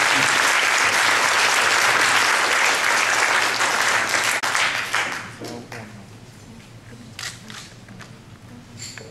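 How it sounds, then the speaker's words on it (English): A crowd claps loudly and steadily, then the applause thins and fades over the last few seconds. "please join me with a big applause"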